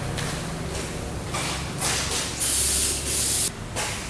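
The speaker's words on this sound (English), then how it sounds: "you just want to spray it real lightly with this so that the clear coat sticks real good to the decal" Adhesion promoter hisses from an aerosol spray can onto a decal in a few short, light bursts, the last ones louder, with quiet shuffling between them.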